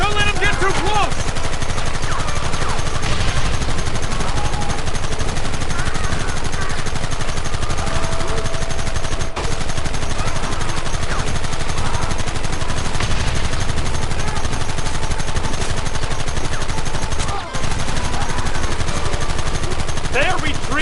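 Sustained gunfire in the Western video game Red Dead, dense and continuous throughout with overlapping shots under a busy mix of game sound and voices.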